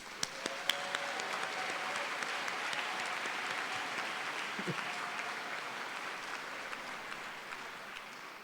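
A graduation audience at a College of Natural Resources spring ceremony applauds the graduates, with a sustained, moderately distant spread of many clapping hands and a few sharper individual claps standing out.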